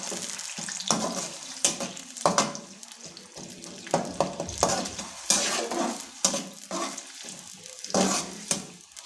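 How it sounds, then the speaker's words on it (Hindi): Onions go into a pan with okra for bhindi masala and fry with a soft sizzle, while a utensil scrapes and stirs against the metal in uneven bursts, close by, and no one speaks. "तो अभी हम इसके अंदर प्याज डालेंगे।"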